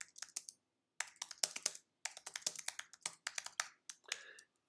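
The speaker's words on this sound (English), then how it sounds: "So now we can type in the next part." A computer keyboard is typed on in quick, close bursts of crisp key clicks separated by short pauses while a command is entered at a bash 2.04 shell.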